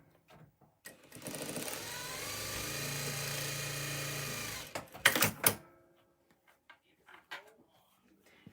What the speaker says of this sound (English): I'm going to sew them together.